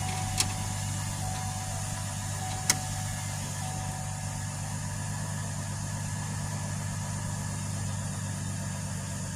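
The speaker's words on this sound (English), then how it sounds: "Start the engine." A GMC Envoy engine idles at a steady low rumble throughout, with a couple of sharp clicks near the start.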